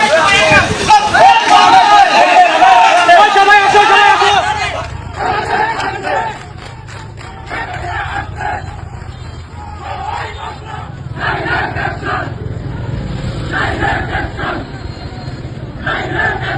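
Chhatra League protest crowd at Goalanda junction in Rajbari district, shouting loudly in the street, first a dense roar of many voices, then rhythmic chanted bursts over a low rumble of traffic.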